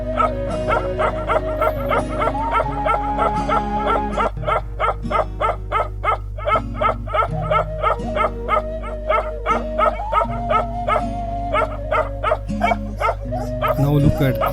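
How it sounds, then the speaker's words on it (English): A Himalayan livestock guardian dog puppy barks aggressively in a fast, steady run of sharp yaps, close and loud, over a low humming background. "Look at this puppy, how it's barking."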